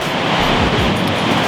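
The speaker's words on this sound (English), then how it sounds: "The waves are a little bit big on this spot," Surf on a Baltic Sea shore keeps up a broad, continuous wash of breaking waves, loud and close, mixed with wind buffeting the microphone. No voices can be heard.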